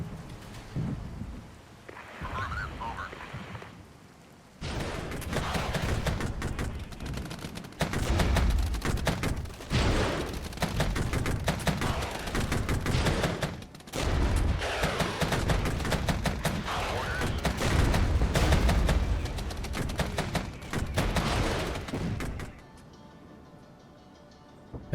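Mortar fire in the strategy game Regiments rumbles as a continuous barrage of booming impacts and crackling blasts, loud and dense for most of the stretch before tapering off.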